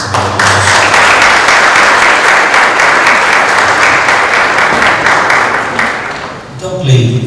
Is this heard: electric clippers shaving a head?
no